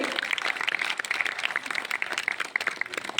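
An audience applauds to honour a guest at a Brahma Kumaris program held in an office, with steady, dense clapping from many hands that continues throughout without a break.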